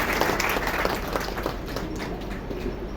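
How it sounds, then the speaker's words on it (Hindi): Hands clapping for themselves at a Mother's Day celebration in Priyadarshani Vihar, Delhi, a steady dense patter that runs the whole time at moderate loudness. "अपने लिए तालियां बजाओ।"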